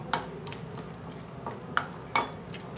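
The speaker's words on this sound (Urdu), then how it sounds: "اب میں اس میں ہری مرچیں بھی شامل کر کے اچھی طرح سے اسے مکس کر لوں" A spoon works through thick chana dal pakora batter with green chilies, a soft wet stirring bed punctuated by a few sharp clinks against the bowl, fairly quiet and close with no voices.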